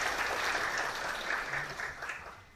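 Applause from the audience at a Korean policy forum on student safety in Gwanak district, a brief burst of clapping that stays steady, then fades near the end.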